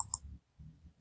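A mouse button is pressed on a save button, giving two quick sharp clicks close together right at the start, followed by quiet low hum.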